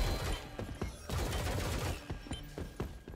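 Video game gunfire rips into the ground in a rapid volley, a string of sharp cracks and thuds at uneven spacing, moderately close and somewhat subdued in level, with no talk over it.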